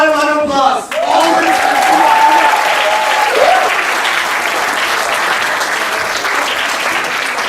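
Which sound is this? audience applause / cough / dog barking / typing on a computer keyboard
audience applause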